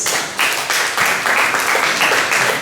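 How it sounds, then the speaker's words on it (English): Audience at a library's open mic and poetry night breaking into applause, a dense, steady patter of many hands clapping at once, loud and continuous throughout. "kindly give a round of applause for Crystal Lopez"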